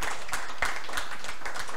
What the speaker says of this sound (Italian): E un applauso ci vuole.